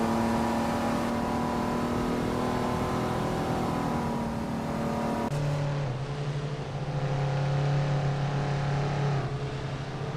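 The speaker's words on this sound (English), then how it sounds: "Leading the pack is Bot Tug On It TTV, sitting pretty on pole in a classic 1985 Toyota Celica Supra" A 1985 Toyota Celica Supra races in a video game, its engine droning loudly and steadily with a sudden gear change partway through, and no one talking.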